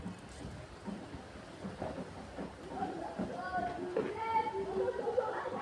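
Rain falls steadily with low rumbles of thunder during a mathematics class on number bases, and a teacher's voice speaks over the storm, which is moderately faint and builds slightly toward the end.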